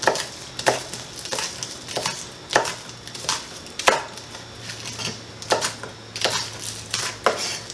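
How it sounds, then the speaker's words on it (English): Green onions are sliced thinly with a knife, a steady series of sharp, close chops on a board at a brisk, slightly uneven rhythm, with nothing else underneath. "we are going to take 3 green onions, and we're going to give those a slice thinly"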